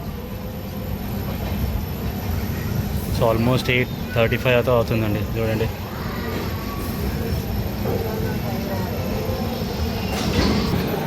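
The Lingampally Intercity Express at Nalgonda railway station sends out a steady, loud rumble of rail noise, with a brief rhythmic clatter partway through. Someone talks over it the whole time.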